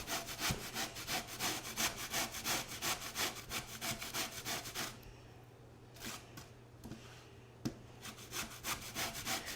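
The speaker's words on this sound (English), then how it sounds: "I like the texture of shredded sweet potatoes in this dessert. So if you use the finer side of your grater, it should look something like this" Sweet potatoes are shredded on the fine side of a hand grater. Close, rhythmic rasping strokes repeat quickly, pause briefly, then return as a few slower scrapes.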